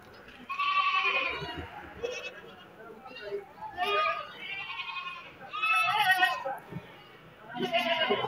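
Large ram goats bleating repeatedly at a busy Sylhet cattle market, loud, wavering calls in close succession with crowd voices and people talking underneath.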